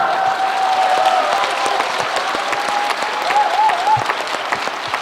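Concert audience in Gwangju applauding steadily throughout, dense sustained clapping with a faint whistle or cheer riding on top.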